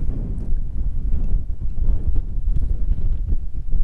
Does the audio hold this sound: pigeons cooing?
no